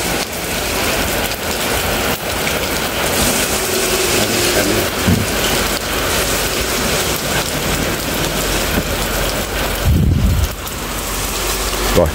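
Heavy early-season rain pours steadily outdoors in Phụng Hiệp, Hậu Giang, a dense, even hiss of drops on surfaces with a low rumble near the end and no voices.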